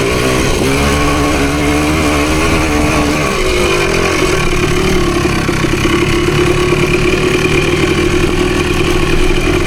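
A PE250 dirt bike engine runs loud and close on a trail, idling and revving unevenly with rising and falling pitch before settling into a steady throttled drone.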